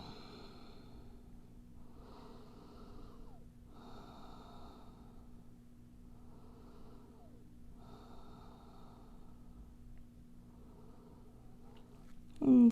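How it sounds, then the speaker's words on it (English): Slow, steady breathing during a quiet yoga practice in child's pose, soft regular inhales and exhales repeating about every two seconds, close and faint, with a brief louder rustle at the end. "Come back to your breath here."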